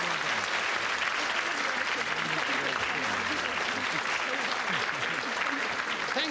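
Studio audience applause closing an edition of the radio panel game Just a Minute, a dense, steady wash of clapping throughout with a voice speaking faintly over it.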